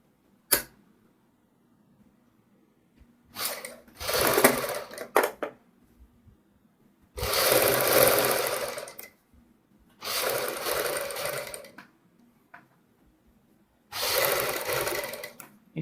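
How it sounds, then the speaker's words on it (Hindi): A sewing machine stitches a kurti neckline with buckram in four or five separate bursts of fast whirring, each lasting a second or two, with near silence and a faint click between them. "इस तरीके से हम बुकरम के साथ साथ सिलाई लगाते हुए ये पूरे गले में सिलाई कंप्लीट करेंगे"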